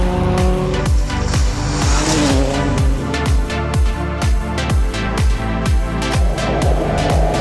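A rally car driven hard on a rally special stage in rain, its engine revving and dropping in rapid repeated bursts with tire squeal, loud and close throughout.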